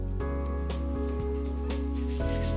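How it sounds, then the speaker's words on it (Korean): A lacquer-coated Buddha statue is being sanded by hand, the abrasive making repeated rubbing strokes over a steady low hum, close and moderately loud. "옷고래가 마르면 다시 사포질을 하는데 모시발이 사라질 때까지 5회 정도를 반복한다"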